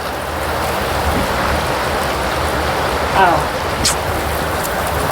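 Heavy rain pours steadily onto a shelter's small awning, a loud dense wash of drops throughout with a brief bump or two.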